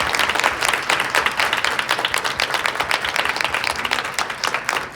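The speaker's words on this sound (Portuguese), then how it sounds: "Uma salva de palmas." A seated audience at a stage talk on tattoo ink making gives a burst of dense, sustained clapping, loud and even from start to finish with no speech over it.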